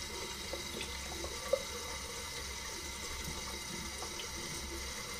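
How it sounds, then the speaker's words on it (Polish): Steady broadband rush of tap water running over a Mühle safety razor as it is warmed before shaving, constant and fairly close, with one faint tick midway and no voices. "włożyć maszynę pod wodę,"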